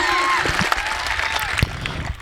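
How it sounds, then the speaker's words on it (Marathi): Crowd clapping and cheering for two wrestlers, Sikandar Shaikh and Prithviraj Patil, at an outdoor village kusti bout, a dense steady roar of hands throughout with a few sharper claps and calls standing out. "टाळ्या करा दोघांसाठी"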